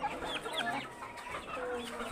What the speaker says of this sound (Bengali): এই যে একটা পাহাড়ি কালো মুরগি আছে